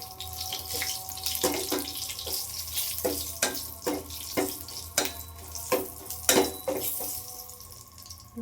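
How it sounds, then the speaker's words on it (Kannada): Hot oil tempering in a pan for Karnataka-style buttermilk curry, with turmeric going in after cumin, mustard seeds and curry leaves; a steady close sizzle broken by repeated sharp crackles and pops. "ಇವಾಗ ಅರಿಶಿಣ ಹಾಕ್ತೀನಿ ಸ್ವಲ್ಪ."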